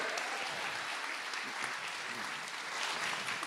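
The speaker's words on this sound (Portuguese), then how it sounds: "Aê, uma salva de palmas" A crowd claps steadily and densely for a few seconds at a hypnosis show, a full wash of applause with no pauses.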